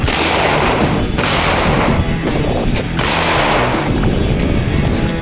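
A cheap shotgun fires several loud, booming shots outdoors, each blast followed by a short echoing decay, with no talk between them.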